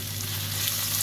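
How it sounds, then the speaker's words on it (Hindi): Curry leaves sizzle hard as they are stirred into a frying tomato mixture, a dense, steady, close crackling hiss. "अब हम इसमें करी पत्ता ऐड करेंगे।"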